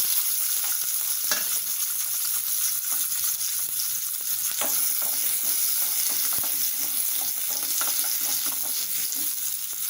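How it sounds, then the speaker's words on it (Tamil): Small onions sauté in a little oil, giving a steady, loud sizzle with occasional stirring scrapes and no talking. "இதை நல்லா எண்ணெயில் வதக்கிக்கலாம்."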